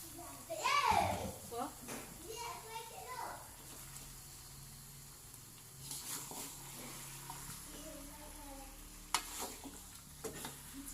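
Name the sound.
stirring taro stems in a wok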